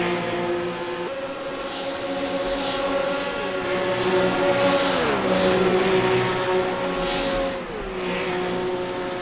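Race cars lapping a circuit: a steady, loud engine drone with sustained tones that shift in pitch as cars accelerate and pass, continuous throughout with no talking.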